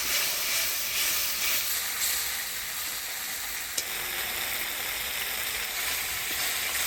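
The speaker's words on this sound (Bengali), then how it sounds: "পুরো মশলাটা ভালো করে কষাই নেব" Spice paste of ground chilli, turmeric and salt fries in a pan for a Bengali rita fish curry with elephant foot yam, giving a steady close sizzle and hiss with one sharp clink midway.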